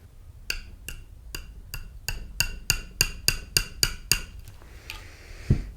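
A quick series of about a dozen sharp metallic taps, speeding up slightly then stopping, as a Browning Hi Power pistol extractor is tapped into place in the slide, close and crisp with no talk.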